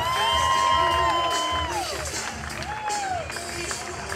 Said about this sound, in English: Let's have a nice round of applause for our patio chair drill team